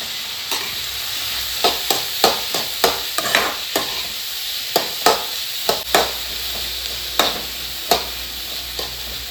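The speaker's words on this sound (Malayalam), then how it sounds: "അതിനുശേഷം നമുക്കൊന്ന് ഇളക്കി കൊടുക്കാം" Chopped onions fry in a pan for chilli chicken while a spoon stirs them. Sharp scraping strokes repeat at an uneven rhythm over a steady background sizzle, close and without talk.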